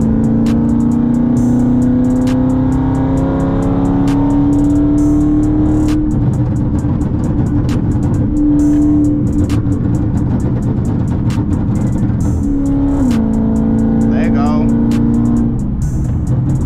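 A small Smart car driving and weaving through dense rush-hour highway traffic, a steady loud engine drone with shifting revs and passing road noise throughout, while someone talks over it.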